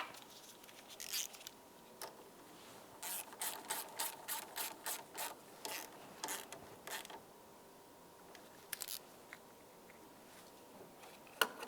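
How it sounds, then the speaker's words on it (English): A ratchet clicks in quick bursts while a 10mm mounting nut on the battery terminal of a 2010-2013 Ford Transit Connect is tightened, with repeated close, crisp ratcheting strokes and short pauses between them. "tighten up your 10mm mounting nut"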